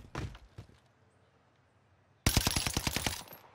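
STG assault rifle firing in the shooter game Warzone, a couple of shots early, then a loud rapid automatic burst of about a dozen evenly spaced cracks near the end.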